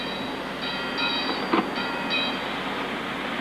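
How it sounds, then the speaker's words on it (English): A freight train rumbles across a river bridge at a distance with a steady low roar, faint high squeals and a brief clank in the middle. "he spotted a freight train on the Conrail Bridge spanning the river ahead"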